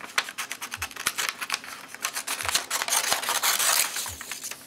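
Repeated sharp metallic snips of Fiskars-made scissors on a Gerber Flik multi-tool, a quick irregular series of close cutting clicks with soft rubbing between them.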